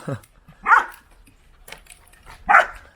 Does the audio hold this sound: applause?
no